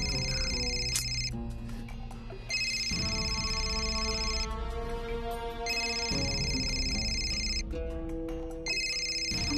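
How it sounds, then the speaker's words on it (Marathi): A telephone rings in repeated electronic bursts of a bright melodic ringtone, loud and close, with a tonal music-like pattern underneath and no talk. "आमदारबाईचा फोन."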